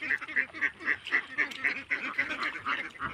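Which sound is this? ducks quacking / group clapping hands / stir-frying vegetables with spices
ducks quacking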